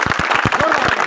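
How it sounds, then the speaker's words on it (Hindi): An audience at the opening of a sewing and tailoring training centre in Teghra claps in quick, close, rhythmic bursts over a brief moment. "मैं चाहूँगा इस बात पर सर के लिए एक बार जोरदार ताली बजाइए"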